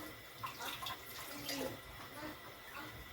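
Tap water running over okra being washed in a sink, a steady close splashing stream with small irregular spatters, faint and uninterrupted for a few seconds.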